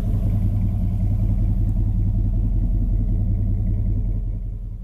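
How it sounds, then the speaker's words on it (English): A Chevy truck idles close by with its air conditioning running, giving a loud, steady low rumble with a faint rhythmic clatter that eases slightly at the end. No one speaks. "I have my truck run too, have the air conditioning on."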